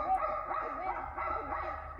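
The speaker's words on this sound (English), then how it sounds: "This dog, named Kinky, just ran around and barked for hours." A dog named Kinky barks and yips repeatedly in a steady, excited rhythm, moderately close, with a faint low hum underneath.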